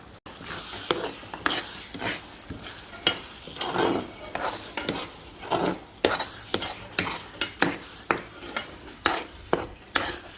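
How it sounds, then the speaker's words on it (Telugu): Ground coconut masala with chili powder stirred in a pan for chicken curry, repeated scraping strokes of a spoon in a fairly regular rhythm over a low sizzle, close and clear with no talking. "కొబ్బరి మసాలాలో కారం అన్నీ వేసుకొని కాసేపు కలుపుతున్నామండి"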